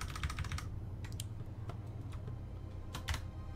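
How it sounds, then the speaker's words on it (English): Keys clattering on a computer keyboard as a command is entered for a private World of Warcraft server, in quick bursts of close, crisp taps separated by short pauses over a low room hum. "If I type who?"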